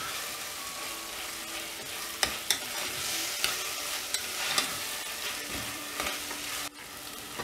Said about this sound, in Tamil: இதுக்கப்புறம் இந்த சிக்கனை ஆட் பண்ணிவிட்டு நல்லா ஃப்ரை பண்ணிடலாம்.